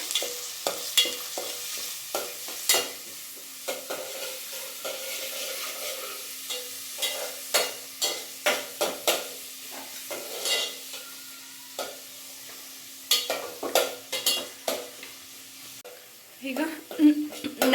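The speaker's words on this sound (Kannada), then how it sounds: "ಈರುಳ್ಳಿನ ಫ್ರೈ ಆಗಿ ಈರುಳ್ಳಿ ಫ್ರೈ ಆಗೋಗಿ" Onions frying and being stirred in a pan for a potato sagu to go with puri, with a steady soft sizzle under repeated scraping strokes of a spoon, close by and moderately loud.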